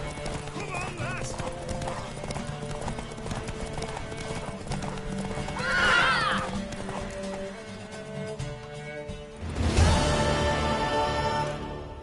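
Horse hooves clip-clop at a steady galloping rhythm in a PS4 video game, with a loud neigh and a second whinny near the end, under steady talk and game music.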